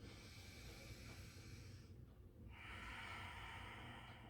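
A deep breath is drawn through the nose during a living-room yoga session, a long, close, steady airy rush that briefly pauses and then resumes as a fuller breath, with no talking.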